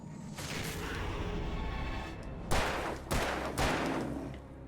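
Gunfire in the video game Alan Wake: after a rumbling buildup, three sharp, loud shots ring out in quick succession, with no talking.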